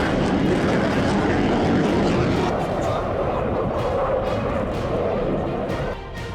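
A JF-17 fighter plane's jet engine roars loud and steady throughout, a dense continuous rumble that tapers slightly toward the end.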